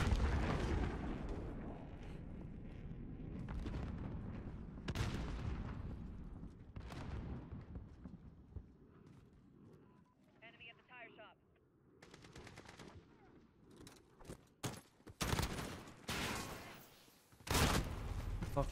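Shotgun and automatic gunfire in a video game match, an M4 also in use, loud sharp bursts and rapid volleys scattered throughout, denser near the end, with occasional quieter gaps.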